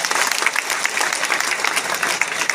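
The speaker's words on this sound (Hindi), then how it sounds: "तालियां सर के लिए।" Audience applause fills the space continuously, a dense, even patter of many hands clapping at close range for the whole stretch, with no voices standing out above it.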